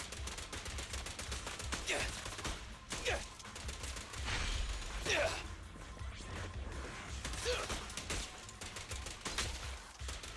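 Gunfire in the video game Zenless Zone Zero: rapid bursts of shots crackle in clusters across the stretch, with a character's voice calling out between volleys and game effects filling the background.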